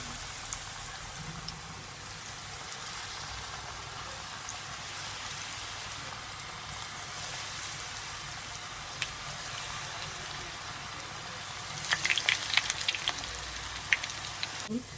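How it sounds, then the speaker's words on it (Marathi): Small balls of Chinese pakoda batter deep-fry in hot oil, making a soft, steady bubbling sizzle throughout, with a few brief clinks near the end. "आता आपण गोळे करून, असे छोटे छोटे गोळे करून पकोडे आपण तळूया।"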